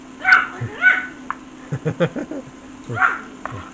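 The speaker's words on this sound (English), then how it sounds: "We got a little dog argument going on over some bones." Dogs squabble over bones indoors, trading short growls, yips and whimpering barks in uneven bursts, fairly close and with no talking.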